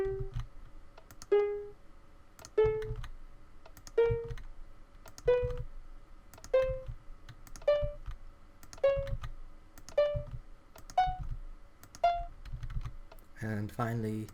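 Minecraft note block notes in the second octave play one after another, about a dozen short plucked tones rising step by step, each followed by a soft click, with a brief clatter at the end.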